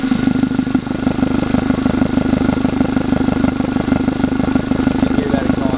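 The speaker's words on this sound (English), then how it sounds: "you can hear that exhaust pulsing through that" Exhaust from an idling 1.8-litre 2004 Volkswagen Jetta pulses loudly through a disconnected secondary air hose at the combination valve, a fast, rhythmic chuffing heard up close throughout.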